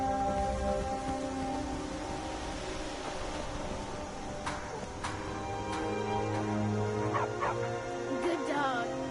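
In the video game Skyrim, a dog barks a few scattered times against a steady background hiss like rain, with a voice speaking briefly.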